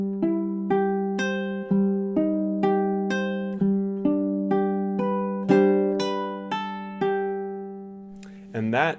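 Fingerstyle ukulele plays measures 7 and 8 of a melody in steady time, each plucked note ringing clearly with a bright decay, close and alone, with a short fumbling sound at the end.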